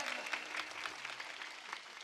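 Audience applauding at a live kirtan performance in Maharashtra, a dense, steady burst of clapping at moderate volume lasting throughout, with no music underneath.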